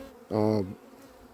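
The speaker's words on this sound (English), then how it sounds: "the bees are just coming and going, getting in through the bottom here and through that little hole" A honey bee buzzes past close by, a brief loud drone lasting about a third of a second, around wet beehive frames set out to dry away from the hives, with quiet outdoor background before and after.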